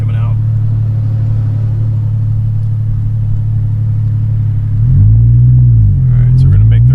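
A race car engine accelerates out of a corner on a street circuit, a loud close drone that climbs in pitch as it goes through the gears, with a voice talking over it.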